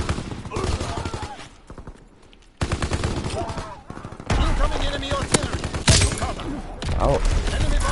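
Rapid bursts of gunfire from a Call of Duty WWII match, dense and repeated through the stretch, with a voice talking over the shooting.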